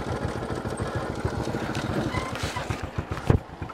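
A homemade motorcycle's engine runs outdoors in a steady, rough putter with wind buffeting the microphone, fairly faint and continuous.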